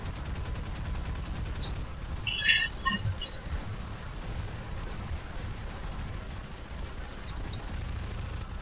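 Short bursts of SMG pulse rifle fire in the video game Garry's Mod, crackling in a few clusters over a steady rumbling ambient bed, with sparse faint shots spread across the battle.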